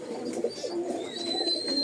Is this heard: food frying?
no